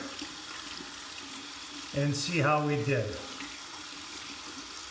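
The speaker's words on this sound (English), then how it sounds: "I'm going to wet this in cold water" A faucet runs cold water for about a second to wet an alum block after a razor shave, a short splashing gush against quiet room noise, with someone speaking briefly.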